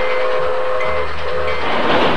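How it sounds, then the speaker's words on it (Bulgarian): A bullet train in Nottingham, England, rushes past with a loud, steady roar, a sustained whistle-like tone above the rumble throughout the short pass. "Влакът стрела. Това е влакът стрела."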